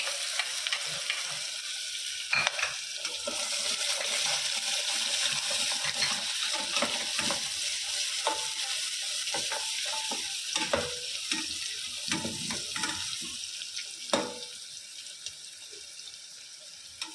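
Chopped onion and whole spices with a pinch of asafoetida fry in oil for a spinach dal, giving a continuous sizzle with scattered stirring clicks and scrapes, close and steady, no voices.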